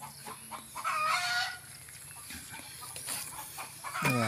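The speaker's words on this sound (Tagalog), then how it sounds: "yung bagong panganak na manok" A hen near a newly hatched brood clucks and calls in short bursts close by outdoors, with a few louder squawks breaking through the quieter background.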